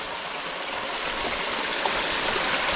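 Water pours steadily over a small dam formed where a fallen tree blocks a narrow stream branch, a continuous broadband rush of falling water heard fairly close, with no talking.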